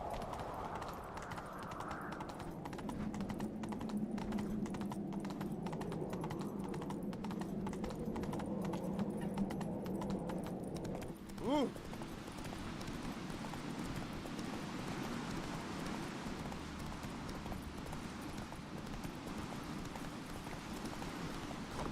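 Hooves of a horse galloping in The Witcher 3: Wild Hunt, a steady muffled clip-clop running continuously at moderate volume under game ambience, with a brief sharp sound midway.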